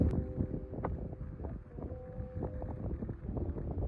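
Wind gusting steadily across an open golf course tee box, a continuous low rumbling buffet against the microphone with no voices present.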